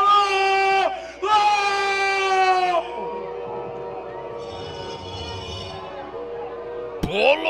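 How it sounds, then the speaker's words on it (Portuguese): Arena crowd booing as a 25-year-old, 75 kg fighter from Fortaleza is announced at an X1 Brazil fight event, a loud sustained roar of jeers running almost throughout, with an announcer's voice heard over it. "Bololô sendo anunciado e vaias para Bololô! E vaias!"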